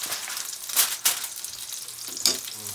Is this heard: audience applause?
no